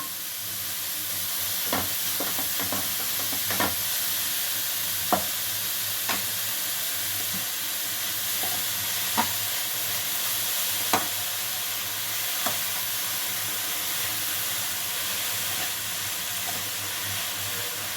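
Grated carrot mixed with eggs fries in a pan with a constant soft sizzle, broken by scattered scrapes and taps of a spoon as it is stirred, close and even throughout.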